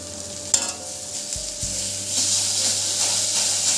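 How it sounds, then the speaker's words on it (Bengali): Chopped onion, tomato and green chilli frying in a pan for an egg and brinjal dish: steady sizzle and hiss with scraping strokes of a spatula stirring, close and continuous, no voices. "এগুলো একটু পেঁয়াজের সাথে ভালো করে ভাজা ভাজা করে নিচ্ছি"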